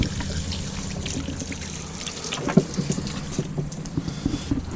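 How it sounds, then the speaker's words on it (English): A freshly cut black drum fish fillet is rinsed under running water, giving a steady, close splashing hiss with small irregular drips and patters throughout and no talking. "I'll give it a quick rinse."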